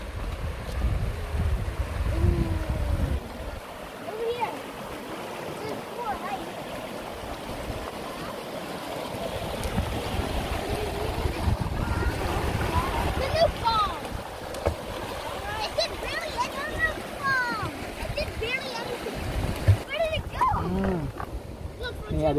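A clear river runs beside a mountain track near Mt Somers, a steady broadband rush of flowing water that stays fairly close and even, with occasional faint voices and movement over it.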